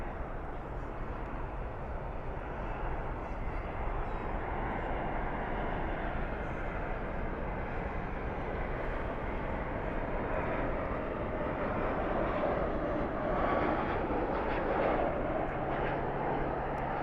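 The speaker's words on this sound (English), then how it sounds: "Spoilers up, reverses out. That was beautiful. That was a Neo, an A321 Neo from Mexico City, flight 800." An Airbus A321neo lands at night at DFW with reverse thrust deployed, producing a sustained, heavy jet roar that swells toward the end as the reversers spool up, heard from a distance with no talk.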